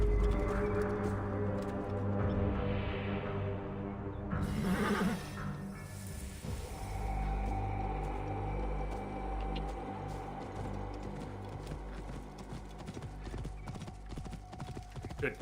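Hooves pound in a fast, continuous gallop in Assassin's Creed: Origins, with a loud horse neigh near the middle over steady rumbling background.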